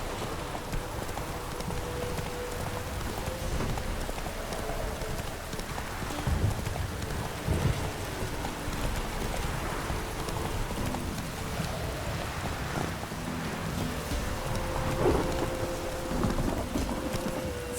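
Roach, a horse in a video game, gallops steadily through pouring rain with rumbling thunder, the hoofbeats a continuous clip-clop under the downpour.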